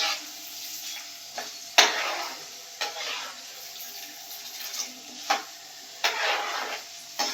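Mustard seeds and urad dal frying in hot oil in a home kitchen: a faint, steady sizzle punctuated by sharp crackles and pops as seeds burst, with occasional stirring.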